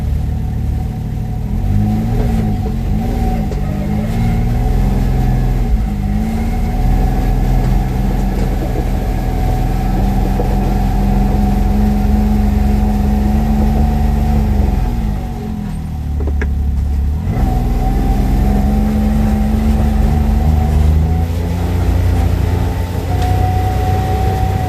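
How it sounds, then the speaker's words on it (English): Can-Am X3 side-by-side engine heard from inside the cab, a loud, steady drone that rises and dips as the throttle changes, with a brief lull near the middle before it climbs again; no talking. "Alright, now we're going to take it for a spin, see what it sounds like inside the cab."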